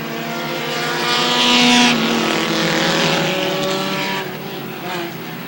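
Dirt modified race cars roaring around a dirt speedway, several engines blending into a loud, sustained drone that swells, then eases slightly as the pack moves on.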